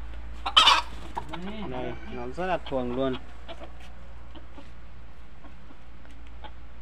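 A tame jungle fowl gives a few soft clucks close by, briefly under a man's speech, followed by quiet background.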